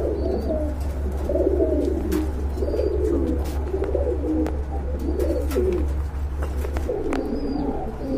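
Fancy pigeons at a seller's place coo repeatedly in soft, rolling phrases over a steady low hum, with a few faint chirps in the background and no one talking.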